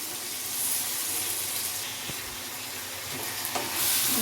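Potatoes and brinjal sauté in hot oil for a dried-fish curry, giving a steady, close, broadband sizzle with light stirring scrapes throughout. No one speaks.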